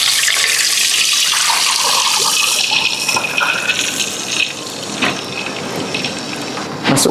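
Water pours from a container into a cooking pot holding melted ghee and spices, a loud steady gush that tapers into splashes and drips before a final burst near the end.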